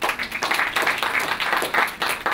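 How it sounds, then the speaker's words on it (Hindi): An audience at a motivational talk claps for themselves, a short burst of dense, moderately loud applause with pulsing clusters of handclaps. "अपने लिए ताली बजाने वाले।"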